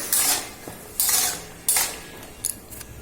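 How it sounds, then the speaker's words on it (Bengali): Metal spoon stirring sugar, turmeric and salt in a cooking pan, a few sharp scraping clinks in separate bursts with short pauses, close and fairly quiet. "এরপর একটু নাড়াচাড়া করে নেবো।"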